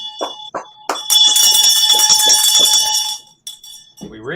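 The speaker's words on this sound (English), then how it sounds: "We ring the bell for victorious test takers." A bell is rung to celebrate a test taker who passed, with a few bright struck tones followed by a sustained ringing peal, loud and close, then a brief voice at the end.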